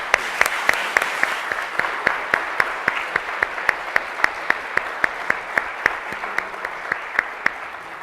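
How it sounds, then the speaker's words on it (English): A seminar audience applauds its speakers with steady, evenly spaced claps that sound like a modest crowd in a room, continuing for about eight seconds with no voices over them. "Round of applause for our speakers."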